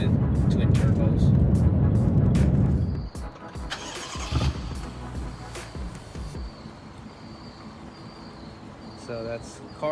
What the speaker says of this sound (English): So that's Carl's car.